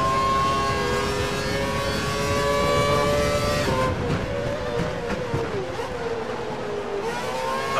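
A Formula 1 car in the F1 2012 racing game howls at full revs on the Hockenheim circuit during the German Grand Prix, its loud high-pitched engine tone held steady and then dipping and climbing through gear changes.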